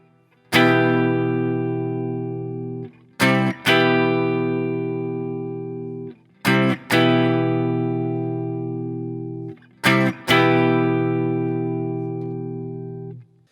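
A guitar plays the chord progression of Jack Harlow's "What's Poppin" as four sustained, ringing chord strums, each preceded by a quick pickup stroke, with a processed, effects-laden tone and no talking.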